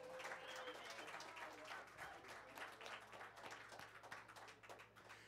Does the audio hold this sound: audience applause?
yes